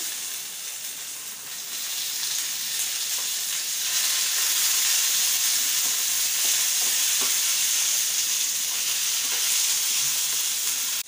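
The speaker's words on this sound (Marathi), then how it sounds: "5-6 हिरव्या मिरच्या घातल्या, फ्राय करायचे." Green chillies and thick-cut tomato fry in oil for a garlic chutney, giving a steady, close sizzling hiss that grows louder after the first few seconds and continues without talk.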